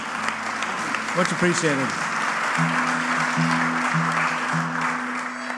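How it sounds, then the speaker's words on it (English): Audience applause for the crew at a live rock session venue runs continuously under a low steady hum, while someone speaks briefly over it. "Give them a round of applause."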